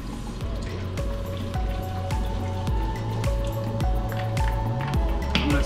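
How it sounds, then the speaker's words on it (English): Diluted sanitizer being poured into an Ice-O-Matic ice machine during cleaning, a steady gurgling trickle with rhythmic drips and splashes close by, no talking. "I'm gonna dump a little sanitizer in here."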